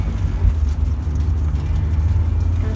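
A Honda S2000 sports car pulling away, a steady low engine rumble close by and fairly loud, with no voices over it.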